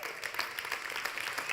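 A church audience begins to clap in scattered, quick handclaps that stay soft and a little distant and build into light applause, with no talking.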